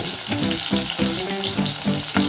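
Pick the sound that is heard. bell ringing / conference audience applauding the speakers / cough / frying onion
frying onion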